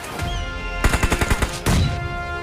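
Rapid automatic gunfire from a shooting video game, a burst of several close, loud shots with a continuous game soundscape underneath and a heavier blast near the end.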